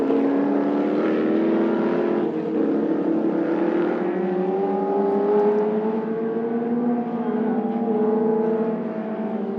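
Historic race cars, a McLaren and a Crossley, race on track at a historic motor racing festival, engines droning loudly and continuously, the pitch sliding upward as they accelerate.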